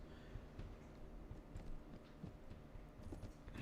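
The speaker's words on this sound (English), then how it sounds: "Well, I'm on a horse." Horse hooves clip-clop in the Mount & Blade Warband video game, a steady rhythmic patter of soft thuds running under a low ambient rumble throughout.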